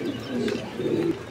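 A pair of Lahori pigeons cooing close by, with low, throaty murmuring coos that rise and fall in two soft swells over a little more than a second, with no talking.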